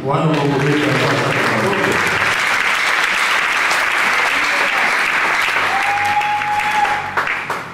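Sustained applause from a church audience during a French-language sermon on the resurrection of Christ, a dense steady clapping that fills the room throughout, with voices and a brief whistle-like tone near the end.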